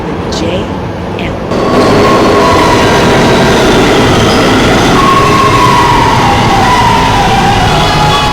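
An R211A subway car on a B train runs along the line with a loud, steady rumble and a rising electric motor whine. A recorded announcement plays near the start before the noise swells.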